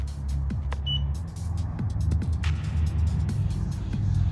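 A BMW convertible top's side wings move under key fob control, giving a steady low motor hum with faint mechanical clicks, heard close and alone.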